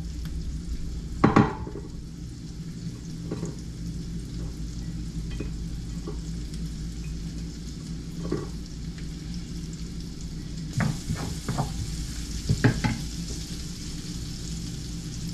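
Pork belly fries in a pan with a constant close sizzle, broken by intermittent clacks of a utensil stirring and scraping against the pan.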